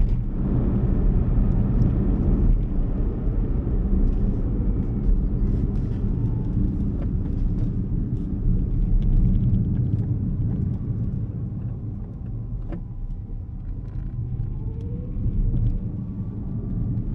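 Baojun E100 electric car driving and accelerating, a steady low rumble of road and motion noise with wind buffeting throughout, no clear speech over it.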